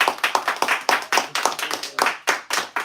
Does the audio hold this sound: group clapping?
yes